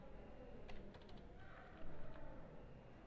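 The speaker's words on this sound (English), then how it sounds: "we can type that number down" Numbers are typed on a computer keyboard, a few faint, scattered key clicks over a steady background hum.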